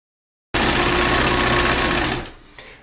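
A sewing machine stitches a sweater sleeve in a loud, fast, steady mechanical whir that starts abruptly after a half-second of silence and stops near the end.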